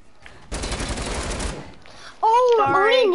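A single short burst of rapid video game gunfire crackles for about a second, followed by a brief pause and then a loud voice speaking.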